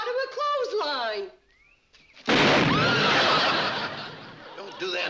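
A loud old cannon test blast erupts suddenly after a short lull, its boom and debris rumble filling the scene, with voices and laughter heard before it.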